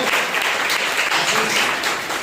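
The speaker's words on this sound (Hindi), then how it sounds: "ओके, जोरदार एक ताली बजाइए।" A church congregation at a Sunday service applauds the worship team, a dense, sustained burst of clapping from many people filling the room without pause.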